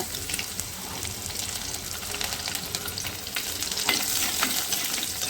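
Dried red chillies and garlic fry in hot oil in a pan with a continuous close sizzle and crackle, steady and loud throughout, with no talking.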